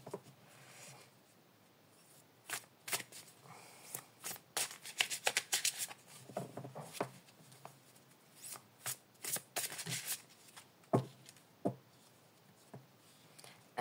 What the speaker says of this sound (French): On va encore tirer quelques cartes.